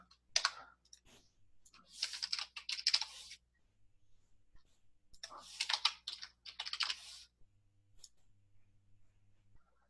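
Bursts of typing on a computer keyboard, clustered key clicks in two short flurries separated by pauses, close and fairly quiet with a low hum underneath.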